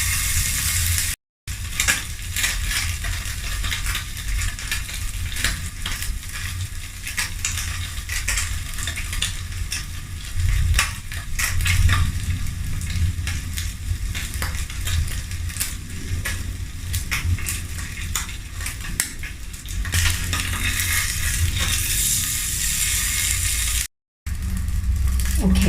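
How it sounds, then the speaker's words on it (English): Salmon fries in a pan with a dense, continuous sizzle and crackle, close and fairly loud, steady for about twenty-five seconds with occasional stirring or scraping clicks and no talking. "I will fry each side about 2 minutes."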